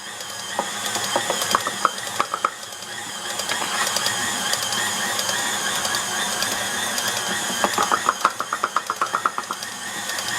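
Electric stand mixer churning gingerbread cookie dough, a steady mechanical whir with rhythmic ratcheting clicks that strain and quicken in bursts, close and alone.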